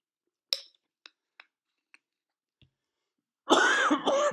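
A man coughs and clears his throat in a short, close burst after a few faint clinks, probably from a drinking glass, during a quiet pause in a backgammon endgame lesson.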